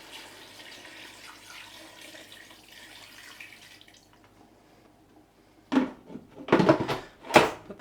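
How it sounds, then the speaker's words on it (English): Water pours steadily into a pressure cooker pot over meat, a soft continuous rush for several seconds, then it stops and is followed by louder clattering handling knocks close by. "Add enough water to mostly submerge the meat."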